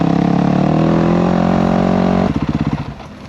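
A dirt bike engine idles loud and close with a steady, rough harmonic drone, then the note breaks into uneven pulsing chugs as it winds down and cuts out near the end.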